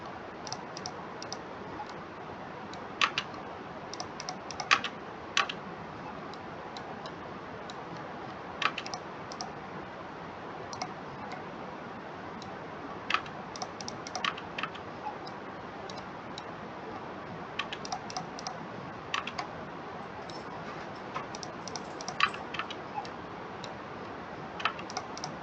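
Steady typing on a computer keyboard during SubD modeling work in Rhino, a continuous run of quiet, close clicks and key taps with occasional louder strikes, no talking.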